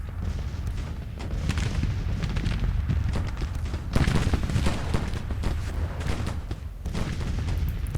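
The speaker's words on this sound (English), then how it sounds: "I'm going to order these 12-pounder field guns to fire at will." Cannon fire from 12-pounder field guns in Grand Tactician: The Civil War, a continuous rumble of overlapping deep booms rolling across the battlefield, dense and steady with heavier blasts standing out now and then.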